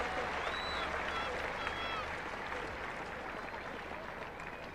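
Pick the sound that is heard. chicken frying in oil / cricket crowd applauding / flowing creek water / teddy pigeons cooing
cricket crowd applauding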